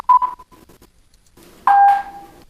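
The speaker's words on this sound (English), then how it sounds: "that last beep, that very distinctive beep right before the song starts" An electronic editing beep sounds twice, a brief tone near the start, then after a short silence a louder sustained beep with a faint secondary tone, heard alone without talk.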